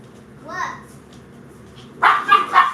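Two small puppies yip and bark in short, high bursts, one brief whine early and then a louder cluster of three barks close by, with background noise of a home.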